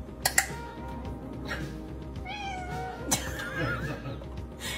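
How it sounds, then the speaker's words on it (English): A house cat begging for tuna as a can is opened, giving a few short meows and chirps between faint kitchen clatter at moderate distance. "The moment I peel this back, my cat's gonna start begging."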